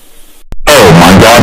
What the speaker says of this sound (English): taking a very very very very very very very very cold shower